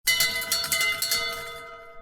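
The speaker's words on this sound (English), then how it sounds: "your team will cheer you on as you get to ring the Victor's Bell to celebrate finishing your radiation therapy" A Victor's Bell rung to mark the end of radiation therapy, struck in several quick clangs and then left to ring out with a long, bright, sustained tone that slowly fades.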